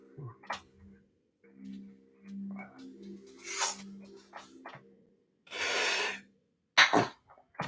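A single sharp sneeze bursts out amid quiet breathing and soft background noise, followed by a few breathy exhalations.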